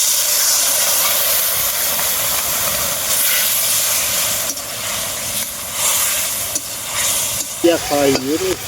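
Water poured into a pan of sautéed ground chilli and spice paste sets off a loud, steady hiss and sizzle that fills the whole stretch, with some stirring scrapes near the end.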